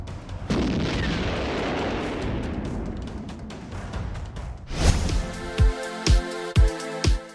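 Bomb blasts and artillery fire in Kyiv: a long rumbling, roaring barrage for several seconds, then a string of about five sharp, loud booming bursts spaced roughly half a second apart near the end.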